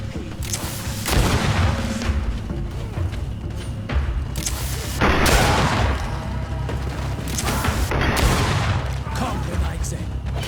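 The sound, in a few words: grenade explosion in video game GreedFall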